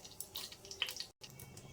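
Mustard and cumin seeds crackle in one to two tablespoons of hot oil in a pan, a tempering for a drumstick-leaf gravy. The dense, steady spitting continues throughout, with one very brief gap, and no one talks.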